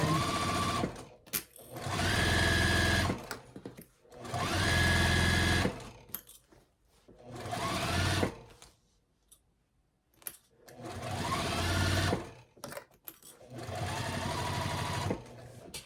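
A domestic sewing machine stitches a seam at a 2.5 stitch length with back stitching, running in several loud whirring bursts separated by short pauses and faint clicks.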